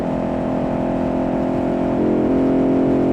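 A modern muscle car engine in BeamNG revving and holding high, a steady loud droning whir that climbs slightly in pitch, with no talking.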